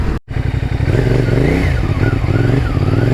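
A CFMOTO 450SR motorcycle engine revs loudly and close, with rising and falling throttle sweeps after a brief cut near the start, a harsh, continuous roar.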